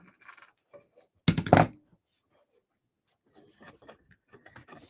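Scissors or a blade trimming excess paper from a handmade accordion journal, heard as a single short, loud cutting burst in the middle, with faint handling rustles and soft murmurs of talk around it.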